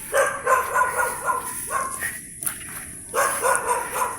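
A dog barks repeatedly in quick, yappy bursts, fairly close, with a short pause before another run of barks.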